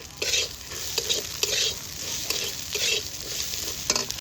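Spice paste with green chillies is stir-fried in a pan, giving a soft, steady sizzle broken by repeated scraping strokes of the spoon at an even rhythm, with no talking.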